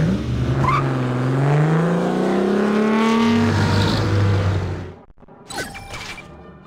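A car in the game 007 From Russia With Love revs loudly and accelerates through rising engine tones, then the engine drops away into a brief quiet before a few scattered mechanical sounds.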